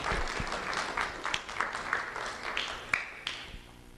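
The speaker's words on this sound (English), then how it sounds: "Let's have a round of applause for Faith Dunn" Audience applause for a student award winner at a school recognition ceremony, dense clapping that thins toward the end with a few louder individual claps standing out.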